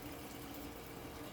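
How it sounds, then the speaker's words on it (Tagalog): A TCL 7.5 kg top-load washing machine, model TWA75-F107TLW, takes in water on its program 6 wash cycle, giving a faint, steady rushing hiss with no pauses. "Una niyang gagawin is magkakarga siya ng tubig."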